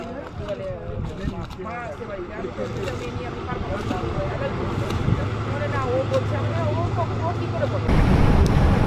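Boat moving on the Ganga river near a ghat, with a steady engine drone and water wash, people chattering and calling out over it, the noise swelling louder near the end.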